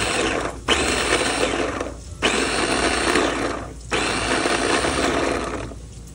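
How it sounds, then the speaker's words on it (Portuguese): A mini food chopper cuts onion in three loud, whirring pulses of a few seconds each, separated by short pauses. "Eu uso esse triturador, gente, a mini."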